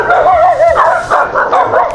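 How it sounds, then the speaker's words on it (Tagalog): A dog gives close, high-pitched wavering barks and yelps in a short, loud burst. "Ayun, may aso."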